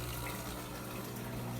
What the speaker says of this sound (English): This tube that pumps out all the water, I connect it to an outside hose.